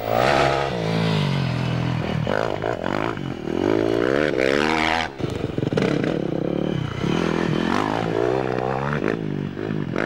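Yamaha YZ400F four-stroke enduro motorcycle engine ridden at Ambert, revving loud and close with continuous rising and falling pitch sweeps, a brief dip around halfway, then more hard throttle.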